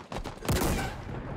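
A burst of rapid gunfire from the Halo Infinite shooter game, loud and close, with a sharp onset that rings out and decays within about a second.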